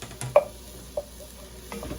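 Hamburger meat and onion sizzle faintly in a pan while a utensil stirs, scraping and clicking a few times against the metal, close by and without talk.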